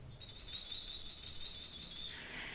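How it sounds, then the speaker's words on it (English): A flexitone played by a high school concert band percussionist, a bright rattling metallic shimmer sustained for about two seconds and then fading, faint and close with no talk. "He is going to be playing a flexitone,"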